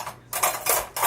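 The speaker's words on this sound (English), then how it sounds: "Making pancakes. Making bacon pancakes." Metal utensils scraping and clattering against a pan while bacon pancakes cook, three quick close bursts of clinking and scraping in a short burst.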